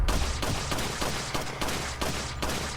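Ada's unupgraded handgun in Resident Evil 4 fires shot after shot, roughly five or six close, loud reports spaced evenly, with no voices.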